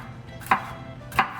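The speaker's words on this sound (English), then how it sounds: "And we're going to also cut this one up as well" A sharp kitchen knife chops through a bell pepper on a cutting board, two distinct crisp knocks spaced about two-thirds of a second apart over a quiet background.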